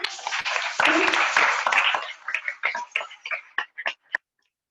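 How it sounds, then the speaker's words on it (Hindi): Applause from the audience at a Hindi-language gathering in a hall, a dense burst of clapping at first that thins into a few scattered claps and then stops. "सभी जोरदार ताली।"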